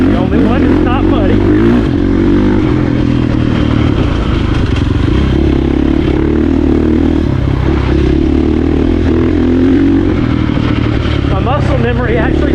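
Dirt bike engine running steadily while riding a muddy rutted trail, a loud close drone with gear shifts and revving surges, plus rattling and clatter from the bike.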